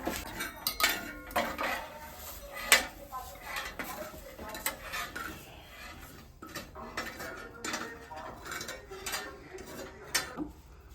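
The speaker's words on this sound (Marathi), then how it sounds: "मिरची सगळी आपण फोडून घेऊया तसं दाबून घेऊया" Roasted chillies being crushed and pressed in a pan for a gram-leaf dish, with irregular clinks and scrapes of a metal utensil against the pan, close by, and faint speech in the background.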